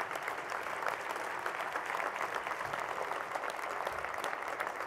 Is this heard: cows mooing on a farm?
no